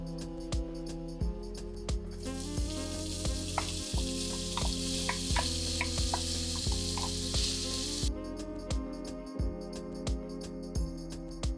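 Bacon and sausage fry in a little oil in a pot for leftover fried rice, giving a continuous close sizzle and crackle with occasional scraping clinks throughout, no talking.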